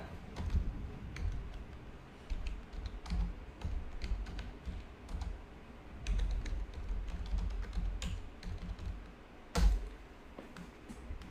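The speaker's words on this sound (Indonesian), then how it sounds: "Ya, saya ketik ya." Fingers type on a computer keyboard, tapping out a quick, uneven run of close key clicks with a few sharper, louder strokes and brief pauses between bursts.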